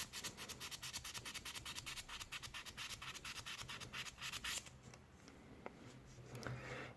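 Sandpaper rubbed over a rusty stainless steel knife in quick, steady back-and-forth strokes, a close, quiet, gritty scratching that loosens and thins near the end.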